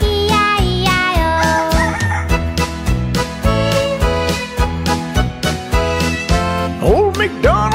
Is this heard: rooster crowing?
yes